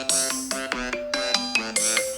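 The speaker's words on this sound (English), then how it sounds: "Oh, that's my phone." A mobile phone rings with a bright electronic melody, a quick run of repeated tonal notes that rises and falls in a steady pattern, close and clear with no voices over it.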